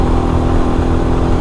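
A Royal Enfield Himalayan motorcycle engine, fitted with a 16-tooth sprocket, pulls steadily and loudly in fourth gear, a continuous close-up drone that holds even throughout as the bike keeps accelerating.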